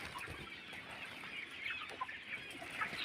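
Farm chickens cluck softly and continuously in the distance, their faint overlapping calls spread over a steady rustling background noise.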